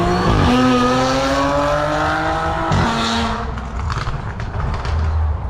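A car with a Nissan VQ engine roars past nearby, its loud engine note climbing through the gears with a shift, then fading as tire noise and road sound take over.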